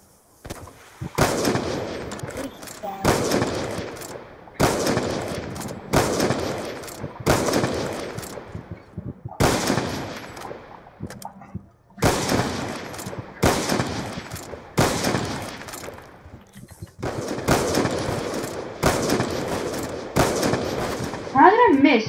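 Gunshots from the Black Ops 2 video game in a 1v1 match, loud sharp shots in repeated bursts across the whole stretch with brief gaps between, a voice talking over them at times.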